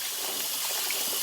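Cold tap water runs steadily over goat meat being washed for curry, a continuous close splashing gush with no talk over it.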